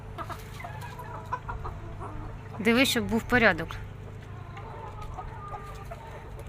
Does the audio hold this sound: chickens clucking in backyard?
yes